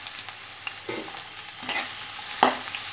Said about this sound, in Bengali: গ্যাস কমিয়ে আমি পেঁয়াজটাকে 2 মিনিটের মতো একটু ফ্রাই করে নেব।